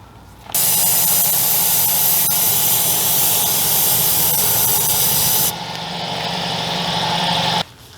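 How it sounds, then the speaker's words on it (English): Compressed air blasts steadily into the firebox of a barbecue smoker cooking beef brisket, a loud continuous hiss with a low rumbling roar beneath, cutting off briefly and then resuming with a duller tone before stopping abruptly. "just grab your air compressor if you got one"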